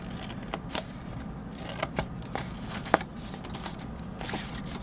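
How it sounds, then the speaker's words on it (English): Scissors cut paper along a score line on a small ornament gift box, a series of short, crisp snips spaced about a second apart over a steady low background hum. "so we're going to cut on this score line here to meet up with the other one."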